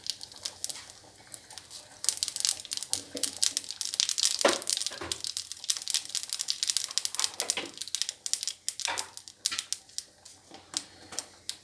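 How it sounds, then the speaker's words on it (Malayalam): Mustard seeds crackling and popping in a hot pan, a dense run of sharp, rapid pops that grows busier after the first couple of seconds and carries on steadily, close and fairly loud, with no talk. "പാൻ ചൂടായി അതിലേക്ക് കുറച്ച് കടുക്,"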